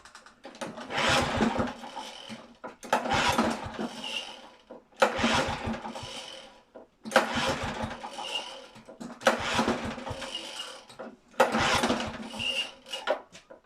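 Honda HR21 lawn mower engine cranking: six sputtering bursts, each lasting about a second, with short pauses between pulls, loud and close, no voices.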